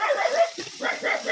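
A village dog barking at night, a few short yelping barks at moderate distance, broken by brief pauses.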